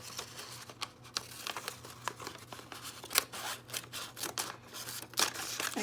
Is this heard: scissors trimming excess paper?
yes